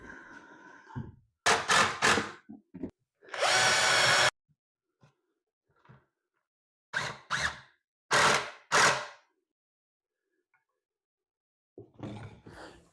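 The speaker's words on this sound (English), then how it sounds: "we put 2 screws for every board" A power drill drives screws into the boards of a DIY kitchen island base. It sounds as several loud, close whirring bursts, one held noticeably longer, with quiet gaps between them and no talking.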